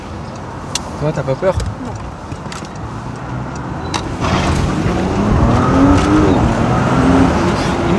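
A Porsche Cayenne V6 revs up from a low hum into a rising, strong acceleration roar heard from inside the cabin, growing louder through the second half, with people talking briefly over the engine early on.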